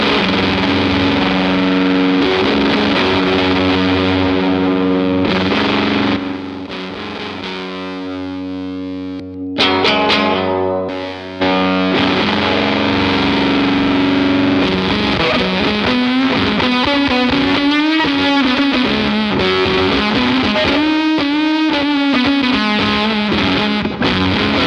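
An electric guitar runs through a fuzz pedal in overdrive, playing thick, saturated, sustained chords and bending lead notes, loud and continuous with a short quieter break near the middle.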